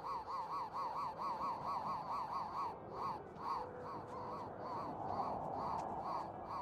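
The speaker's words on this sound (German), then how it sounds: "Ich frage mich immer noch, was das für ein Geräusch ist. Irgendwelche Vögel, die man nicht sehen kann." Unseen birds in the game Gothic 3 give repeated honking, goose-like calls in a quick steady rhythm, fairly close and prominent over a soft ambient background, with no talking.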